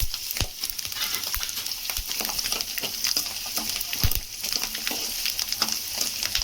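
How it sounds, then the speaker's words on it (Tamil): Garlic cloves frying in sesame oil with fenugreek seeds for a shallot and garlic kuzhambu, a steady close crackling sizzle with occasional sharper pops and stirring clicks, no talking. "பூண்டு இப்போ பாதி வதக்கிடலாம்."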